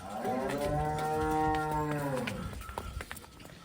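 A Jersey cow gives one long, close, resonant moo lasting about two seconds, then trails off into quiet farmyard noise.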